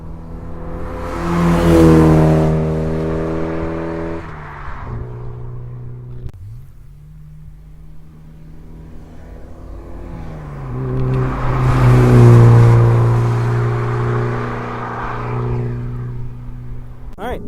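A '93 C4 Corvette sports car makes two loud flybys, its engine revving hard as it approaches, then dropping in pitch as it passes and fades, with a quieter idle stretch between the two runs.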